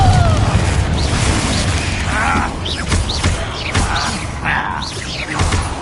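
Confringo blasting spell in the video game Hogwarts Legacy, a dense run of loud booms and crashing impacts mixed with whooshing effects and clattering debris, continuous and close throughout.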